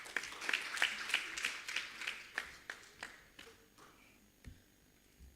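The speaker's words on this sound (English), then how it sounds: "Please clap hands for him." Audience applauding a speaker at an African trade union gathering on debt sustainability, with sharp scattered claps that thin out and fade over several seconds.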